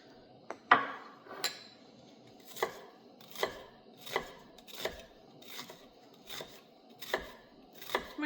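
A knife chops ingredients for lamb ravioli on a board, about a dozen crisp, evenly spaced knocks at a steady home-cooking pace, close and fairly quiet, with no voices.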